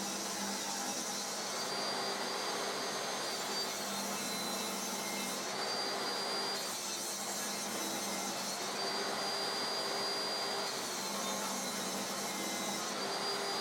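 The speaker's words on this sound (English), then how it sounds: "I've tilted my table saw blade and now I can cut away some of the excess." A table saw with a tilted blade cuts pallet wood in a continuous loud whine, its pitch shifting slightly as the blade bites into the wood, steady throughout and with no talking.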